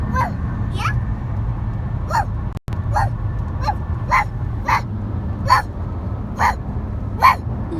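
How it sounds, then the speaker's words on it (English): A dog gives a string of short, sharp barks at a steady pace, close by, over a low background rumble. "Are you barking?"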